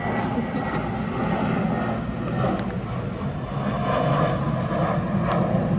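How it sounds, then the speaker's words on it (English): Airplanes passing overhead, a broad continuous engine roar that swells and fades slightly, moderately distant and steady for the whole stretch. "Excuse the planes."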